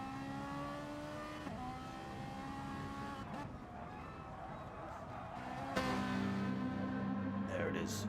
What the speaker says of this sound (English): There's the Ferrari. Beautiful sounding 458.